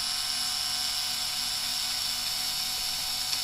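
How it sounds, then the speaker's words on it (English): Small electric screwdriver whining steadily and continuously up close while removing screws from the motor mount of an Arrma 3s BLX RC car. "what we're going to do now is just quickly remove the screws"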